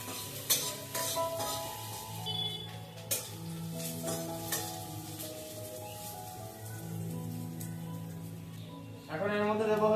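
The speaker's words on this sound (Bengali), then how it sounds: "তো এখন আমি পেঁয়াজটাকে ভেজে নিচ্ছি" Onions frying in a pan for a soyabean curry, a soft sizzle with intermittent utensil scrapes and clicks, close but quiet, with tonal music playing over it and a brief louder burst at the end.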